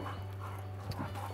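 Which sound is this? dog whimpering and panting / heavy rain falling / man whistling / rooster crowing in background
dog whimpering and panting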